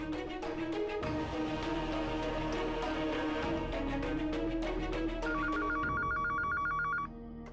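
A telephone rings in repeated bursts over a musical background, then a clearer electronic ring pattern takes over near the end before stopping.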